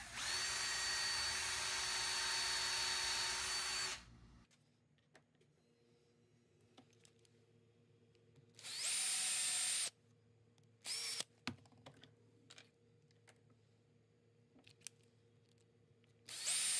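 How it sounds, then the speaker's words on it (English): A power drill whines loudly for several seconds drilling a hole in a wooden horse game piece, stops, then gives a couple of shorter bursts separated by quiet clicks and handling noises. "so I can drill that hole and then we'll be gluing that in"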